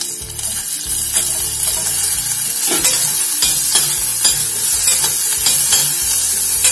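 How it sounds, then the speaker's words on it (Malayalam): Onion sautéing in a pan while a spoon stirs it, a steady loud sizzle broken by repeated scraping strokes over about seven seconds, with no talking. "ഇനി നമ്മൾ എടുത്തു വെച്ചിട്ടുള്ള ഈ സവാള ഒന്ന് വഴറ്റി എടുക്കാം."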